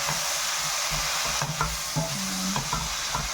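Shrimp sizzle and fry in buttered garlic while a utensil stirs them in the pan, bringing short scraping clinks over a steady hiss. The sound is close and moderately loud, with no talking.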